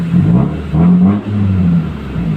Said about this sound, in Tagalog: muffler ang tawag dyan pagka pinapaingay yung tambucho